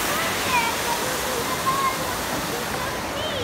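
Steady broadband rush of river water flowing along the Adda on a sunny summer outing, continuous and fairly loud throughout, with faint voices and a few high bird-like chirps drifting over it.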